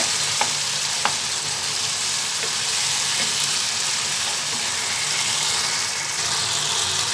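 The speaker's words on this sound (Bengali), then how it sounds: "মাংসটা আমার প্রায় অলমোস্ট কষানো হয়ে এসেছে।" Meat braises and fries in oil for a halim-style dish, a loud, dense, unbroken sizzle close up with a few faint clicks, with no talking.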